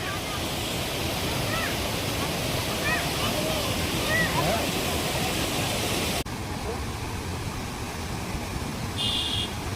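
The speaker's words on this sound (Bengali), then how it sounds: "যোগীঘাটের সেই সুন্দর ঝর্ণা দেখতে পাচ্ছ, খুব সুন্দর এই ঝর্ণাটি।" Steady broadband rush of a waterfall at Jogighat in the Darjeeling hills, loud and continuous throughout, with the tone dropping slightly partway and a brief electronic beep near the end.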